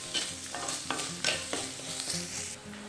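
Sliced onions with a pinch of salt sautéing in a pan, a steady close sizzle broken by repeated scraping stir strokes of a spoon, with no voices.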